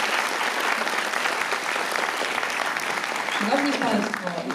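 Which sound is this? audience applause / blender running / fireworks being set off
audience applause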